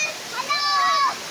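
Steady rushing of a river waterfall fills the scene at close range, with voices calling and sustained vocal tones over the continuous water.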